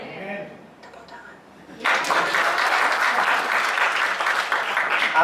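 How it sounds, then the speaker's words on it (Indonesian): Speech from a preacher during a church sermon gives way to a sudden burst of congregation applause, steady and full-bodied clapping that continues to the end. "Tepuk tangan."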